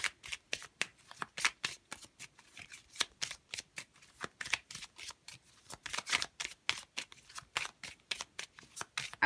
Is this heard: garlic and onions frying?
no